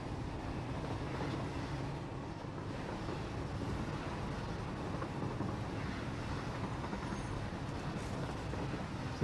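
A train rolls past in the video game Satisfactory, a steady broadband rumble and rush holding at an even loudness throughout, with no voices.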